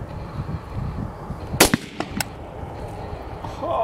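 A single sharp gunshot fired at a target outdoors cracks loudly mid-clip, followed by a couple of smaller echoing pops over a low background rumble.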